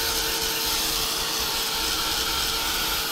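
A heat gun blows steadily over wet gesso and paint splats on an art journal page, a continuous close whooshing hiss that runs unbroken throughout.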